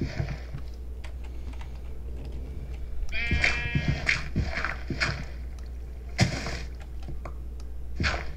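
Sheep bleating in Minecraft, a few short wavering bleats scattered among frequent clicky keyboard and mouse taps, all fairly quiet.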